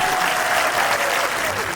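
An audience at a screening and Q&A for Midnight Madness (1980) at The Frida Cinema applauds the cast and crew in dense, loud, continuous clapping that fills the room.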